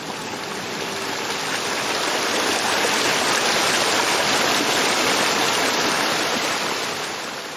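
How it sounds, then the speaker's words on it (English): A video game waterfall roars as a steady, loud broadband rush with no letup, its sound muffled and occluded by surrounding rocks in a hidden passage behind the falls. "we get that sense that the sound of the waterfall is being occluded by the rocks"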